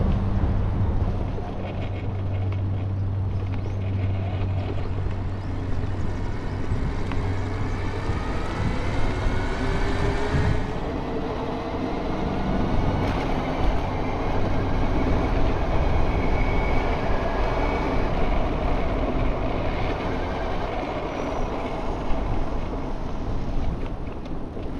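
A BBSHD electric bike motor running on a Flipsky 75100 Pro V2 controller accelerates with a whining tone that rises in pitch. The whine sits over heavy rolling and wind rumble that continues for the whole ride.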